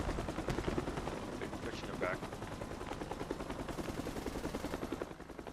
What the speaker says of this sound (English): Canadian Armed Forces putting down some suppressive fire